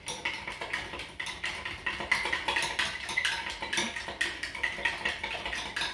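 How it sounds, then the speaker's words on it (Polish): Vigorous stirring of a volcano experiment mixture in a container, a fast run of rhythmic clinking and scraping strokes, close and fairly quiet, repeating steadily without speech. "Energicznie mieszamy."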